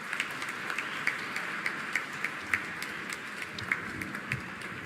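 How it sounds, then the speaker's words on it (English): Applause from a seated audience for Swami Samarpanananda after his talk, soft and somewhat distant, with scattered sharper individual claps standing out over a continuous patter. "A huge round of applause."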